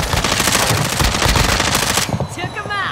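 Rapid automatic gunfire in a video game shooter crackles in dense, loud bursts for about two seconds, then cuts off, leaving a faint ringing tail.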